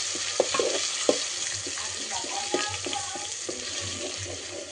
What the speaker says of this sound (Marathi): मसाला मस्त परतून घेत आहे।